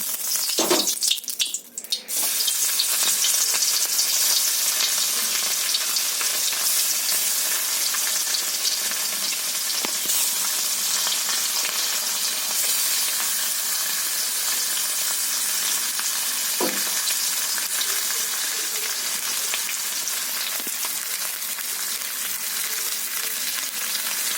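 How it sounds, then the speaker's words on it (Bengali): Tilapia pieces rubbed with salt and turmeric sizzle in hot oil in a wok, a loud, steady frying hiss that runs unbroken for the whole stretch, with a brief clatter near the start and no voices. "এবার কড়াইতে মাছগুলো আমি দিয়ে ফেলে দেবো"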